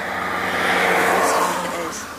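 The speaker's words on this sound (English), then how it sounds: "there's a car coming" A car approaching along a road, its engine and tire noise swelling to a loud peak and then easing, with faint voices underneath.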